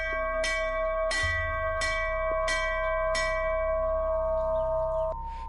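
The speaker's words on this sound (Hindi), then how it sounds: "रात करीब 10 बजे गांव की चेतावनी घंटी अपने आप बजने लगी।" A village warning bell rings by itself at night, five clear metallic strokes at a steady pace, each ringing out with a long sustained tone, close and loud with no speech.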